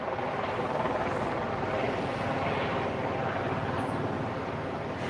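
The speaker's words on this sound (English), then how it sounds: "Can you see the helicopter up there kind of hovering and just" A helicopter hovering over Waikiki gives a steady, distant rotor drone under broad outdoor background noise, with no talking.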